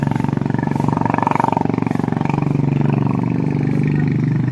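A motorbike pacing cyclists on a cycling track holds a steady, loud, buzzing engine drone close by, its pitch shifting slightly as it runs.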